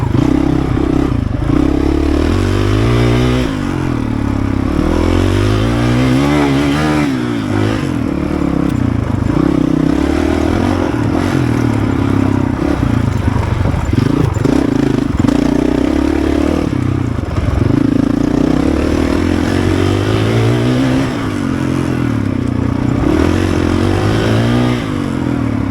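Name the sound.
enduro dirt bike engine while riding, Honda CRF450RL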